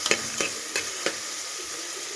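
Onion frying in oil and ghee in a pan, a steady sizzle with a few scraping stirs near the start, close and moderately loud, no voices.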